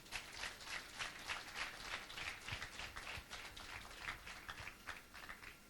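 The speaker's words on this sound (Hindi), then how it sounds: "ताली बजानी तो फिर जोर से बजाओ" A church congregation claps during a Hindi Christian sermon, a steady rattling patter of many hands that holds at even loudness throughout, with no speech over it.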